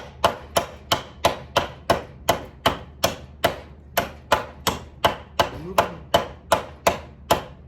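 Sharp, rapid chopping strikes of a blade biting into wood, about two or three per second in a steady rhythm, close and crisp.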